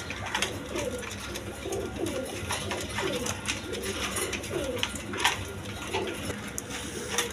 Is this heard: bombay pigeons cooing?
yes